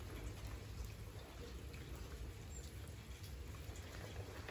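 Steady rain patters down in a dense, even hiss over a village in Georgia in January, with a faint low rumble underneath and no voices.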